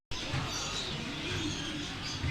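Caged songbirds and doves in a pet section of a large shopping mall in Turkey, chirping and cooing continuously amid a busy indoor hubbub.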